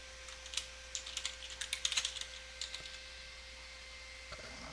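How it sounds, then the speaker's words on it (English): Light computer keyboard typing while a word is entered into a document section, a short burst of soft, quiet key clicks clustered in the middle of the clip, then silence. "we'll type in yearly budget."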